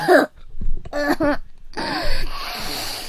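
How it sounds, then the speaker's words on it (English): Miss Yui, a character in the horror game Corpse Party: Book of Shadows, coughs in a few harsh, strained bursts separated by short gaps, loud and close against a quiet background. "That's an awful sounding cough."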